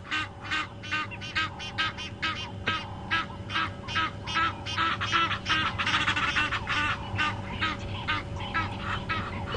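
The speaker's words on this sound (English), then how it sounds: "these are Egyptian geese" Egyptian geese honk repeatedly in a loud, rapid series of harsh calls, close by and continuous with no talking, on a morning game drive.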